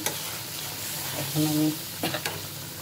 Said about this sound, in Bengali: মাছ ভাজিটাও করে নিলাম